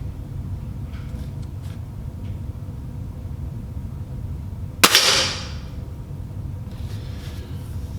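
A Ruger Blackhawk revolver fires one sharp, loud shot of a soft lead bullet into a 3/4 inch pine target, and its report fades over about a second above steady low outdoor rumble.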